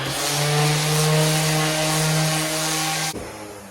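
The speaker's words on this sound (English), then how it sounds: "most of the time we're just going to be using the sander flat against the surface of the wood." A power sander runs flat against a wood panel in a steady, loud buzzing drone for about three seconds, then cuts off sharply and winds down.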